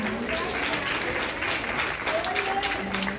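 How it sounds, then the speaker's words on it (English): Mourners at a home-going funeral service clap together in a steady, full round of applause, with a voice talking over the clapping the whole time. "And we thank God for Brother Morrison. Let's give him a round of applause."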